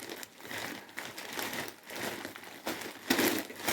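A large plastic shopping bag from an ATB store crinkling and rustling as it is handled, close and continuous with swells of louder crumpling, no speech over it.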